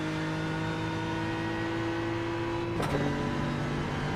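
GT3 race car engine in the iRacing video game, a sustained tonal whine that holds steady and then shifts pitch as the car accelerates back onto the throttle, heard alone without talk.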